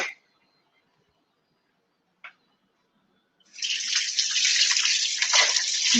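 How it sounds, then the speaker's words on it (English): Water runs from a tap while hands are washed in a kitchen sink, a steady hissing stream starting a few seconds in after near silence and a single faint tap, continuing loudly to the end. "Wash my hands."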